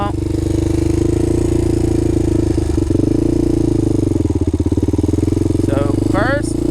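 Honda 400ex ATV engine revving hard in second gear, a loud steady drone with rising and falling pitch throughout, and brief voices near the end.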